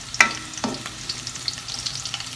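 Chopped garlic frying in oil in a pan before pork ribs hamonado, a close, steady sizzle with a couple of sharp stirring scrapes near the start and no talking.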